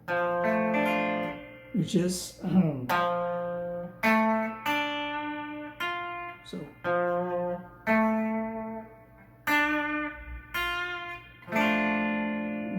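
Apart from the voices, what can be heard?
electric guitar rhythm chord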